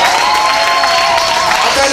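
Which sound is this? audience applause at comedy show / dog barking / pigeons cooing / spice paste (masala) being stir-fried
audience applause at comedy show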